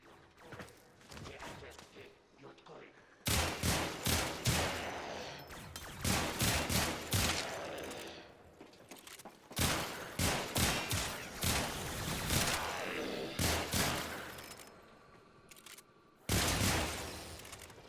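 Sicarus Prime pistol in the shooter game Warframe fires repeated bursts of sharp, loud shots in clustered volleys separated by short pauses, with faint mechanical clicks between.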